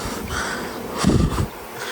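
Honeybees buzzing around an open hive during a frame inspection, a steady droning hum with louder passes close to the microphone.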